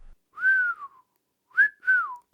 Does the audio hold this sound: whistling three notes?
yes